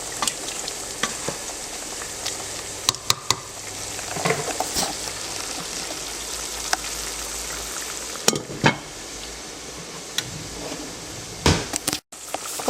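Filipino adobo with bay leaves and peppercorns cooking in a pot, a steady sizzling bubble close by, broken by occasional sharp clanks of a utensil against the pot.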